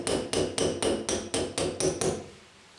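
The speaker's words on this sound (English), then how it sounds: "Now we're just going to tap that wall plug back" A brown wall plug is tapped into a wall with a hammer: eight sharp, evenly spaced knocks in quick succession, close and clear, then stillness.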